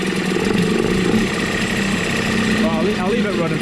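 A Yamaha Malta 3hp outboard motor, freshly serviced with a new water pump, runs at a steady idle close by and warms up while someone speaks over its constant drone.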